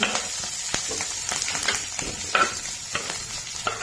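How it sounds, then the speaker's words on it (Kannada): Onions, mustard seeds and cut green chillies frying in oil over medium heat, a close crackling sizzle with repeated sharp pops and stirring scrapes. "ಉಳ್ಳಾಗಡ್ಡಿ ಎಲ್ಲ ಹಾಕಿ ಸಾಸಿವೆ ಇದು ಮಧ್ಯಮ ಉರಿ ಒಳಗೆ ಚಂದಂಗೆ ತಾಳಿಸ್ಬೇಕು ರೀ."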